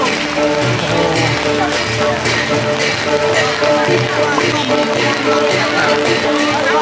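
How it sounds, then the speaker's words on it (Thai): Heavy rain falls through a Shan (Tai Yai) Jong Para procession during a storm, a dense steady hiss and patter on umbrellas and surfaces, with people talking close by over it. "ฝนตก โอ้ฝนตกนะครับ"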